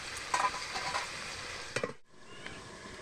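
Ground spice paste sautéing in a pan for a young jackfruit curry made with green chili paste: a steady broadband sizzle with a few sharp stirring scrapes, ending in a brief near-silence and then a softer sizzle.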